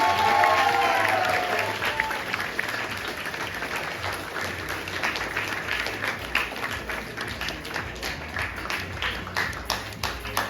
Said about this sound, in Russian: Аплодисменты не смолкают.